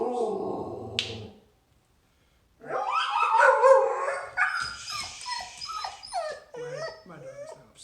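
A pet dog barks and yips in short bursts close by in a home, with a calmer stretch before it and a voice talking over parts of the noise.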